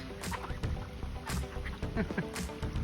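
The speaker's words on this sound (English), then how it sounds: "These are fancy call ducks, brown and white." Brown and white fancy call ducks quack and honk loudly and close by in a rapid, overlapping series of harsh calls, with bits of splashing and movement around them.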